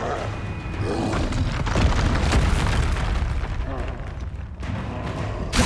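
A spell cast in the Hogwarts Legacy video game bursts out with a booming, crackling rush of fire, loud and dense, followed by continuing rumbling game effects and a faint voice.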